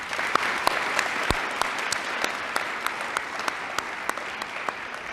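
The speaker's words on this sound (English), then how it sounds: "So round of applause to you guys." Steady applause from an audience at a senior awards ceremony honoring graduating seniors, many hands clapping evenly with sharp individual claps standing out, heard from a moderate distance throughout.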